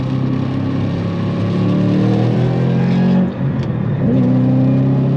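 Roush P-51A Mustang V8 engine revving hard toward 6,000 RPM under throttle, a loud, steady droning roar from inside the car that dips briefly around a gear change and then builds again.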